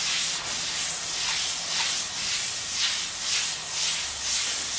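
Steady abrasive rubbing of 360-grit sandpaper across a bowling ball surface during resurfacing, a continuous hiss swelling and fading in a regular back-and-forth rhythm, close and moderately loud with no voices.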